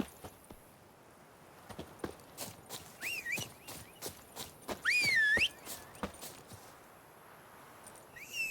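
Horse hooves clip-clopping in the video game The Witcher 3, a quiet, regular series of knocks with a few whistling bird calls over it.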